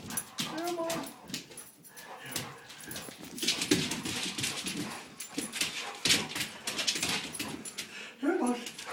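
A dog whimpers and pants, with yips and whines scattered through while a person keeps talking over it, calling to the dog.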